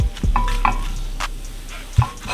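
Eggs scrambled in a sizzling pan for Chinese chicken fried rice, with a steady loud fry and a few sharp spatula taps and scrapes against the pan.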